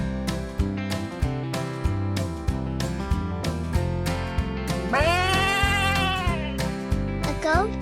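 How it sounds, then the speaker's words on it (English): A goat bleats in a farm-animal setting, a loud wavering cry rising over a steady musical backing with regular beats, with a second shorter bleat right at the end. "A goat is a medium-sized animal with 4 legs and a short tail."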